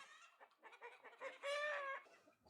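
Chickens on a rural farm in Hongcheon, South Korea, clucking close by: a run of soft, uneven clucks that builds to a louder, drawn-out squawk before trailing off.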